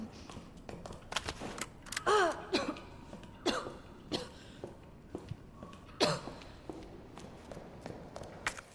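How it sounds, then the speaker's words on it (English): Claire in Resident Evil 2 Remake, poisoned, coughing in several separate harsh bursts spread out over the stretch, with soft footsteps and faint shuffling in between, near and fairly loud. "Why is she coughing? The symptoms of this poison is really weird."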